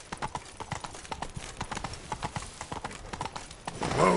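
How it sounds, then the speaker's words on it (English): Roach the horse's hooves clip-clop at a steady walking pace in The Witcher 3, a rhythmic series of moderate thuds, with a rising gust of noise near the end. "Whoa there, Roach."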